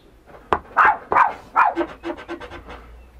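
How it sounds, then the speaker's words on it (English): A dog indoors barks several times up close, a few loud, sharp barks followed by a quicker run of softer yips and huffs, with no talking. "Yeah, the dog."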